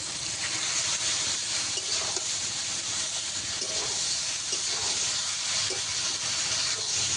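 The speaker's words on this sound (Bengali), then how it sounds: "মশলা করা জলটা দিয়ে দেবো" Loud, steady hiss and steam from spiced water hitting a hot frying pan while cooking a Bengali poppy-seed (posto) dish, continuous throughout with faint scraping underneath.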